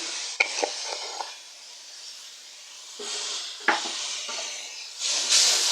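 Spice masala with chopped tomato, turmeric, chili and coriander powder sautéing in a pan: a soft sizzle with scraping stirs and occasional sharp clinks, rising into louder hissing toward the end, no talk.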